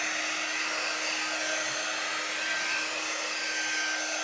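A hair dryer blows steadily and close on a freshly painted peppermint serving tray, a constant hiss with a high whine and no voices.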